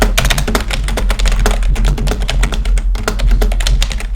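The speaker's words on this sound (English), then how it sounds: "It's actually a membrane that sounds like a mechanical keyboard" Fast, steady typing on a membrane keyboard built to sound mechanical, with crisp, close key clacks in a dense, uneven rhythm and no talk over it.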